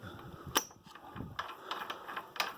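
A Hisun 250 ATV transmission is turned by hand and shifted into high gear, giving a close series of sharp mechanical clicks and ratcheting gear clunks at an irregular rhythm, with quiet workshop noise between them.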